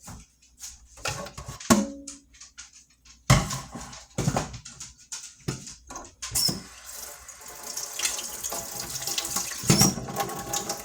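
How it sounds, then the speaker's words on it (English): Cooked spaghetti noodles being drained in a kitchen sink, with irregular splashing and running water that grows louder and steadier toward the end, plus scattered clatters and drips. "So we're going to drain them as well."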